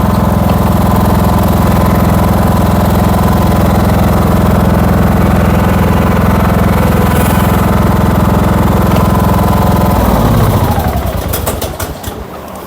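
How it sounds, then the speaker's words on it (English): A Kohler Courage engine fitted to a Toro Timecutter Z5000 zero-turn mower runs loud and steady with the deck engaged, then winds down and cuts off near the end. "This little motor runs pretty good for a little Kohler Courage."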